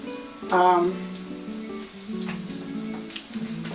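Chicken croquetas drop into hot oil and sizzle, a loud crackling burst at first that settles into a steady bubbling fry, close up, with a voice talking over it.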